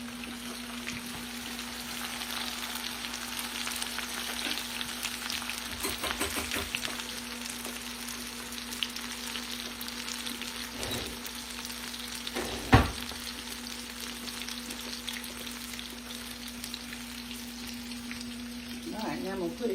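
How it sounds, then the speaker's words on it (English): Green tomatoes frying in a pan, a steady soft crackle running throughout with a constant low hum beneath and one sharp clatter partway through; a voice is faintly present at moments. "y'all can watch it fry a minute."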